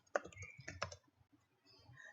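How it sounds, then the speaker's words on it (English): Keystrokes typed into a web page text box on a computer keyboard, a quick burst of clicks near the start, another cluster around the middle, then faint tapping, close and fairly quiet. "If I type anything in the text box"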